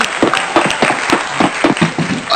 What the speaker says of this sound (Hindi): ताली ताली ताली ताली ताली